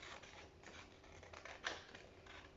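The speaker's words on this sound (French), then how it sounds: "avec les ciseaux, je demande à maman ou papa de découper le rond ou je découpe tout seul" Scissors snip through paper while cutting out a paper circle for a sun craft, several soft crisp cuts in an uneven rhythm, quiet and close.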